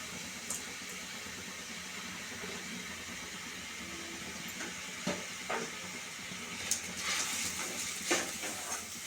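Tomatoes and onions for an Erode-style mutton gravy sauté in a pan with a soft, steady sizzle and a few faint stirring clicks, quiet and close with no talk.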